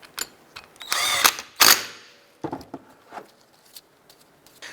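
A power tool spins in short bursts to run down the bolt on a new serpentine belt tensioner pulley of a 2004-2012 Chevy Colorado, two loud whirring pulls followed by fainter clicks and taps, close and with no talking.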